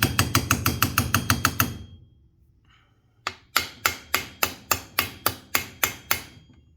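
Metal hammer strikes on the crankshaft nut of a Husqvarna 359 chainsaw during crank seal replacement, a quick run of about ten sharp blows, a short pause, then another steady series of loud ringing hits.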